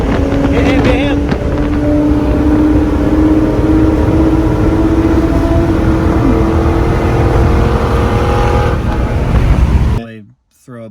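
An Acura TL car accelerating while cruising, a steady loud engine drone with rising tones and heavy wind rush that cuts off abruptly near the end.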